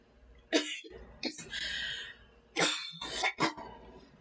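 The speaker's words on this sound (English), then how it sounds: "that was my throat is itchy cough" Several harsh, raspy coughs from an itchy throat burst out close up in two clusters, with breathy pauses between them.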